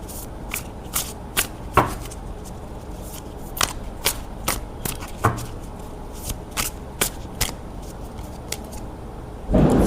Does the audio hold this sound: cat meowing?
no